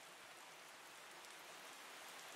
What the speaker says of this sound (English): the rain noises in your bedroom